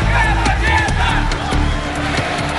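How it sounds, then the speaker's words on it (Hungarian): Esports tournament audience in Kyiv roaring together, a loud, dense crowd swell of shouting voices filling the hall with steady intensity for a couple of seconds. "A tömeg morajlása és a feszültség megteszi a magáét."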